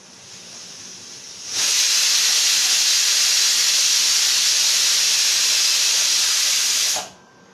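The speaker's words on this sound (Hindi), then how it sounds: "ମୁଁ ଏବେ ଦୁଇଟା ପ୍ରେସର୍ କୁକର୍ ହାଇରେ ୟାକୁ ଦେଉଛି" A pressure cooker cooking temple-style khichdi lets off steam in one loud, continuous hiss lasting about five and a half seconds, starting and stopping sharply, close up with no voices.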